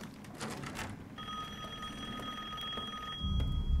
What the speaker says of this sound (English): I think I hear a phone.